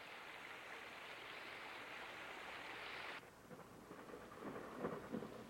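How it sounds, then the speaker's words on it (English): Heavy rain pours steadily during a wet July in the Smoky Mountains, a dense hiss that drops abruptly partway through to lighter, splashier rainfall with faint low rumbles, though no distinct thunderclap stands out. "Then came days of relentless rain"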